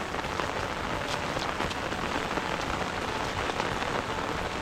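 Heavy rain pours down steadily in a rural rice-planting area, a dense, close hiss of drops drumming on surfaces without pause and with no voices.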